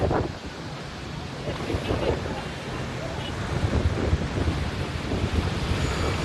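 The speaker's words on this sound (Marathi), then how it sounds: "कल्याण, ठाणे या ठिकाणी देखील सोसाट्याचा वारा सुटलेला असून धुळीचं साम्राज्य सगळ्याच ठिकाणी पाहायला मिळतंय" Strong gusty wind sweeping through Thane and Kalyan during a dust storm roars as a continuous, buffeting rumble against the microphone, rising and falling unevenly across the whole stretch.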